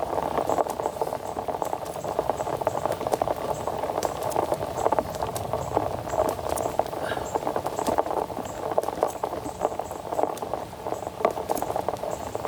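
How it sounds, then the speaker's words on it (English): Hard rain pattering steadily on an outdoor park surface, a dense, continuous wash of small impacts at fairly close range, holding an even level throughout without a break. "it's raining kind of hard now"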